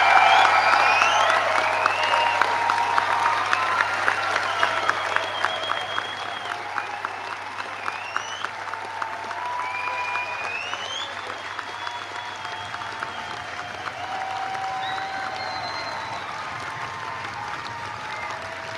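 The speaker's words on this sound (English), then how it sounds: "let's raise this roof with a final round of applause to congratulate our graduates" An audience at a university graduation ceremony for art, design and performance graduates gives a long, sustained round of applause, dense clapping that stays even for nearly twenty seconds, with occasional whoops and cheers over it.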